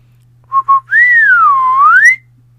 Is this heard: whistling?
yes